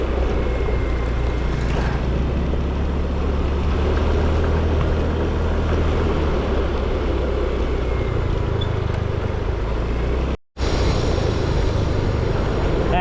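A motorcycle ride toward town in Romblon, Philippines: a steady, close engine drone mixed with road and wind noise, unbroken for most of the ride apart from a momentary dropout near the end.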